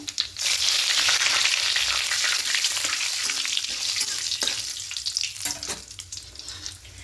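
Black cumin, dried red chillies and bay leaves fry in hot oil in a pan. A loud, steady, close sizzle rises at once, then slowly thins and crackles as it settles, with no talk.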